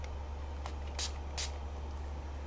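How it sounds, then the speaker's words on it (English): A handheld spray bottle spritzes water onto a mixed media painting in a few short bursts, close and crisp over a low steady hum, with no talk. "Let me see what's going to happen if I spray some water on it"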